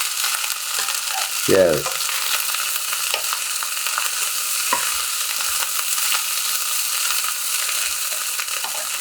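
Fried rice with eggs and small shelled prawns frying on high heat: a continuous bright sizzle, one brief thud near the start, faint scraping later on and a single short spoken word.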